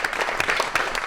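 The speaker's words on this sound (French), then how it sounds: "j'aimerais beaucoup qu'on applaudisse Lucie qui a juste merveilleusement dessiné pendant toute cette conférence" A conference audience breaks into steady applause, a dense wash of clapping held at an even level throughout the short moment with no voices over it.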